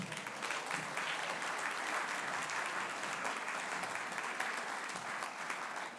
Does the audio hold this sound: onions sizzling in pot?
no